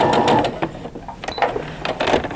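Sewing machine backstitching along the folded edge of a cotton pillowcase seam, a close, steady mechanical whir in short bursts with brief pauses between runs.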